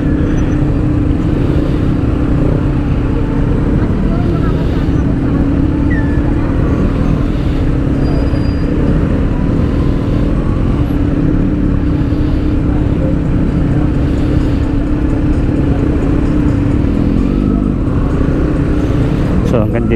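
A Kawasaki Z900 motorcycle rides through rush hour traffic, its steady engine drone and road rumble continuous under surrounding vehicle noise, with a voice talking over it throughout.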